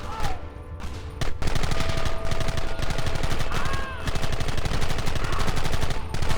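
Rapid gunfire from the Red Dead Redemption video game, dense overlapping shots and bursts of rifle and machine-gun-like fire running continuously and loudly throughout, with shouted voices and whistling whoops mixed in.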